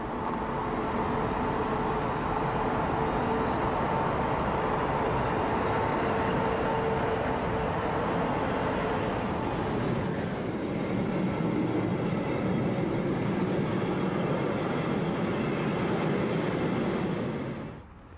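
A Bayernbahn class 140 electric locomotive hauls its train up the Spessart ramp after a stop at Laufach, a loud continuous rolling rumble of wheels and motors with a faint squeal, shifting in tone as it passes.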